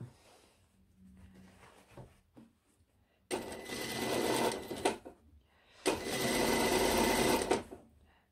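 A sewing machine stitching a 1 mm topstitch seam on a blazer sleeve runs in two steady, close bursts of a few seconds each. Quieter fabric handling and brief pauses come before and between them.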